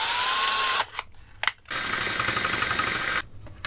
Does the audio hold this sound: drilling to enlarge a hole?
yes